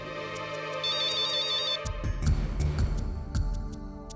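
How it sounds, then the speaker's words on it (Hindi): Mobile phone ringtone in a TV drama scene, a close electronic melody of repeating tones followed by a louder rhythmic pattern of pulsing beeps. "ये रौनक का ही फोन है"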